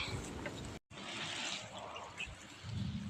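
Jowar (sorghum) grains being washed in water, with close, steady sloshing and trickling that briefly cuts out near the start, then carries on with a deeper swirl toward the end.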